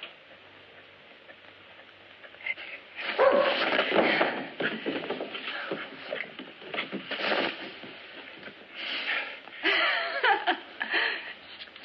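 A young pup in a home at 3 a.m., yapping and whimpering in bursts through most of the stretch, fairly close and moderately loud, with some laughter-like sounds and faint talk mixed in.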